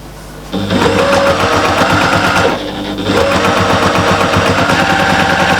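Domestic sewing machine stitching back over the first few stitches at the edge of a fabric wrap project, a fast steady mechanical whir with a rapid repeating needle beat, loud and close, pausing briefly mid-run before resuming.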